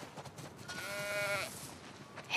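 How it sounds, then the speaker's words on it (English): A single drawn-out sheep bleat in The Last of Us Part II, fairly faint, with a wavering tone lasting about a second over quiet background. "We definitely have way too many sheep."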